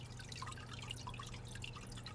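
Water trickles and drips steadily in a backyard garden water feature, faint and continuous with scattered small splashes over low background hum.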